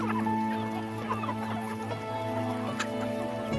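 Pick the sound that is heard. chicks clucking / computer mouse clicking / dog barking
chicks clucking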